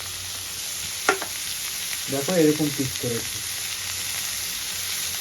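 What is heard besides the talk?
vegetables frying in a pan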